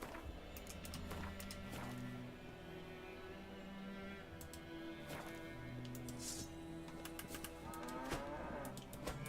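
Several cows in The Witcher 3 low repeatedly, long drawn-out moos overlapping over about nine seconds against a soft game backdrop with occasional clicks.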